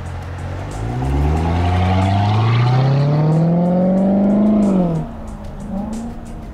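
A Corvette C7 Z06 runs on a race track, its loud engine note rising steadily in pitch as it accelerates for about four seconds, then cutting off abruptly and settling back to a lower idle-like hum.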